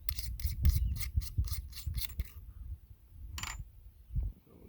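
A rifle scope turret on a sporterized .303 British Lee Enfield No. 4 Mk 1 is clicked through a fast run of about a dozen sharp ratcheting clicks, then a couple of isolated clicks, close and crisp with no voice.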